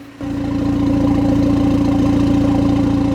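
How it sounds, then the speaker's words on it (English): BMW 330i with a B48 engine settling into a steady idle after a brief start, a loud, deep, throaty rumble with an even pulsing beat, close up and alone. "You can hear how throaty it is."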